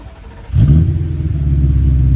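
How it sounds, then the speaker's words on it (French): A car engine runs loud and close with its exhaust valve open, a deep rumbling burble that swells suddenly and then holds steady. "Comme ça, fermé, après le clapet ouvert."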